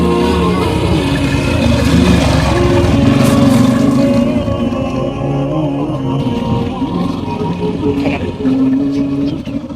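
A motorcycle engine runs steadily on a road in a staged scene from a Bengali Islamic drama, a loud continuous droning hum that holds for the whole stretch with no voices over it.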